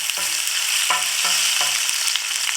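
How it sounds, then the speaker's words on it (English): Ginger and hot pepper frying in hot oil for a vegetable stir fry, a steady close, loud sizzle crackling throughout, with a few sharper pops and spatters and no talking. "Once the oil is hot, add the ginger and the hot pepper."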